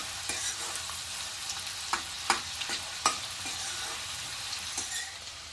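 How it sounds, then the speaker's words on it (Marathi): Onions sauté in hot oil in a pan, a steady close sizzle broken by several sharp spatula scrapes and taps. "कांदा शिजवून घेते चांगला"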